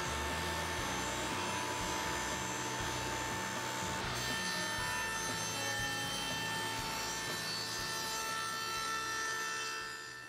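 A router cuts a rabbet in a plywood cabinet panel, giving a steady, loud, rough whir with a rasping grind that runs unbroken for about ten seconds.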